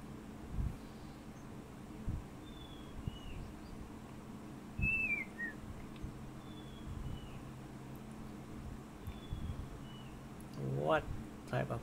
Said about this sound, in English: What type of bird is that?